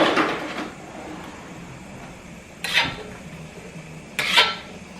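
A spatula stirring mushrooms in a pan, an opening rasp of scraping followed by two brief separated scrapes or knocks against the pan, close, with no talk.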